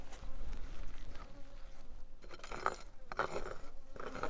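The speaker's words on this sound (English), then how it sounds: "Yeah, there's a lot of wasps in here." Wasps buzz around an outdoor beehive in a bee yard, a close whirring drone that swells and fades as insects pass near, with sharper bursts toward the end over faint background rustling.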